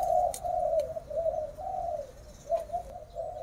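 Pigeons coo in a steady run of low, rounded calls, close and fairly loud, with a few brief chirps and soft background noise and no talking.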